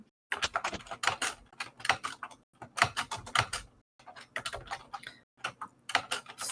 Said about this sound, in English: Sorry, I know that everyone can hear me typing.